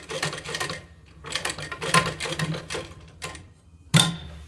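Nearby, a sewing machine stitches the fly of a pair of pants in loud, uneven bursts of whirring, broken by short pauses, with a sharp clack at the end.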